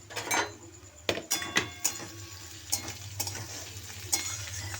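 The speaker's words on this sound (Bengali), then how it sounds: "এবার আমি ক্যাপসিকামটা দিয়ে দিচ্ছি" Capsicum being stir-fried with onion in a pan, with quiet sizzling under a series of sharp spatula clinks and scrapes against the pan, close and fairly soft.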